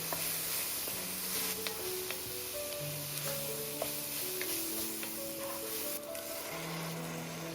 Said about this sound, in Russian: Обжариваю лук до золотистости. Добавляю эмеретинский шафран и все хорошо перемешиваю.